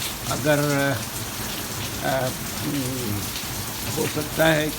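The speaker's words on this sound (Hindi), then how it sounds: "यहाँ भी माशाल्लाह काफ़ी तेज़ बारिश हो रही है" Heavy monsoon rain pours down in Malir Cantonment, Karachi, a dense continuous roar of falling water, with someone talking over it throughout.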